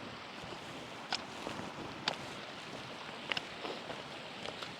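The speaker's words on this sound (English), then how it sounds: "I found another pretty awesome little kind of infinity pool, almost like a waterfall." Water pours steadily into a small, clear, infinity-pool-like waterfall basin beside a hiking trail on the Cumbria Way, a continuous close rush with a few brief splashy clicks and no voices.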